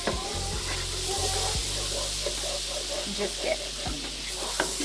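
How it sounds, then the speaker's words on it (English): Lemon pieces sizzle and fry in a hot pan while being toasted to caramelize for lemon chicken cutlets, a steady close crackle with stirring clicks, under brief talk. "wanna toast this lemon and kind of make it caramelized because I feel like it'll give it a really good flavor"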